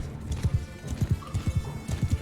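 A fast horse in the Mount and Blade Bannerlord battle game gallops with rapid, rhythmic hoofbeats in steady pairs, clear and close against a low background hum.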